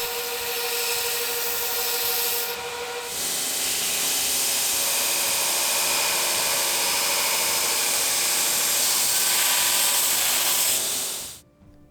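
Power tool grinding hard forge scale off a Damascus steel spearhead, a steady dense abrasive whine that runs continuously for about eleven seconds, with a brief dip early on, and then cuts off abruptly.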